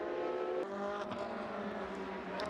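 Race cars at the Mugello circuit during a 2015 race: engines drone and rise in pitch as cars accelerate, fading and shifting as they pass, moderately distant, with no talking.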